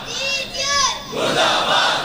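A crowd at a Shia majlis (shab-bedari gathering) shouts slogans together in loud, overlapping bursts that swell and fade across the short stretch, close and forceful.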